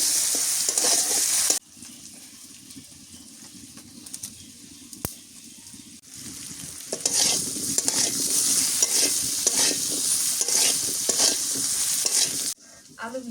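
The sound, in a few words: potatoes frying in a pan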